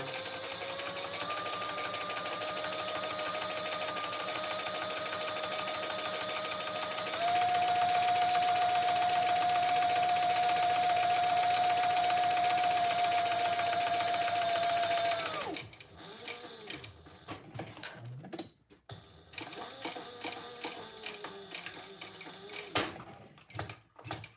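Sewing machine stitching the Julie pattern, a close, continuous motor whir that rises in speed partway through, then gives way to short, choppy stops and starts.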